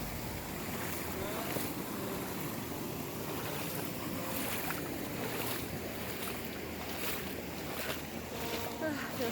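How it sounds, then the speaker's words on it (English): A small waterfall and stream crossing on a hiking trail, giving a continuous, even rush of flowing water that stays fairly close and constant, with no talking. "we're just coming up to a cute little waterfall and a water crossing"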